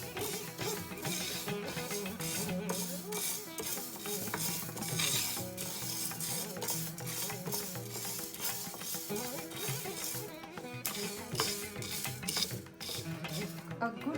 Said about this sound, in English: Just keep stirring so that it doesn't burn